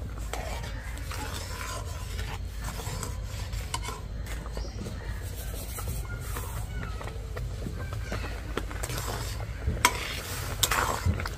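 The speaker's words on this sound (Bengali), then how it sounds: "এইভাবে কিন্তু নাড়তে থাকতে হবে, তাহলে আস্তে আস্তে সুজিটা থেকে জল টেনে নেবে" A spoon stirs semolina thickening in boiling water in a pan, a continuous close scraping and swishing with a soft bubbling sizzle underneath and no voice over it.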